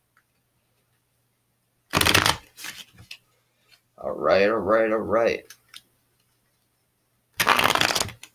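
Two loud bursts of tarot cards being riffled, at the start and end, with a person talking briefly in between.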